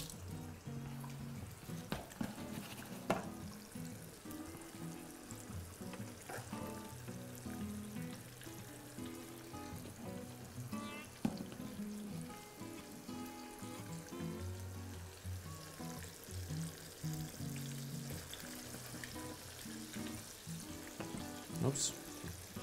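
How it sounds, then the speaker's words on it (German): Breaded broccoli pieces deep-fry in hot oil toward golden brown, giving a continuous low bubbling sizzle with occasional sharper pops and clatters nearby, steady across the whole stretch. "Frittieren, bis es schön goldgelb ist."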